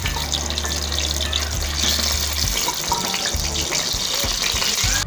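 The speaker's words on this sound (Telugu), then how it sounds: "ఇప్పుడు ఇందులో మనము ఈ పొటాటోస్ని ఫ్రై చేసుకుందాం." Small potatoes frying in hot oil in a pan, giving a continuous close bubbling sizzle over a low hum, with no talking.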